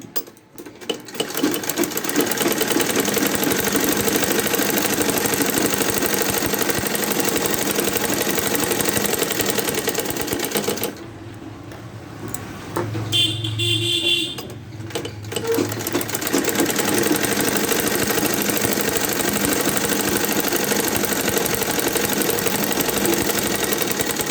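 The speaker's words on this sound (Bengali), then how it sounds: "এর উপর একটা চাপ সেলাই দিয়েছি তো আর একটা চাপ সেলাই দেবো দেখো" A sewing machine runs steadily while top-stitching a blouse, a close, continuous motor whirr with a brief pause midway before stitching resumes.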